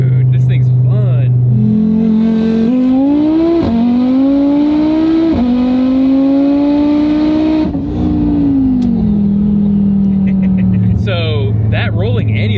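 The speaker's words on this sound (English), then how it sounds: "So that rolling Antilag kicks" A roughly 1150 hp Audi TT RS engine revs hard with rolling antilag, loud and close from inside the car, the revs climbing in steps through gear changes before falling back to idle. Voices talk over it.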